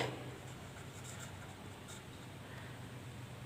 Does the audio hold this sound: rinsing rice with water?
no